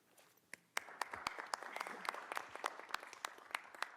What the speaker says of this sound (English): So I also want to offer her a round of applause